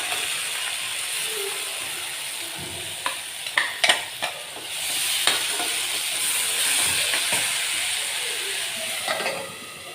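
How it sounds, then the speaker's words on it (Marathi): Tomato puree sautés in hot oil for a spicy bitter gourd masala dish, giving a steady close sizzle with scattered clicks and scrapes from stirring in the middle, and no talking. "टमॅटोची प्युरी छान अशी तेलामध्ये परतून घेऊया"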